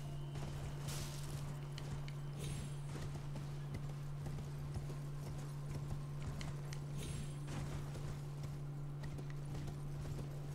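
Horse hooves in the video game Elden Ring, a rapid continuous clip-clop of galloping that runs throughout at moderate volume over a low steady game hum, with no talk.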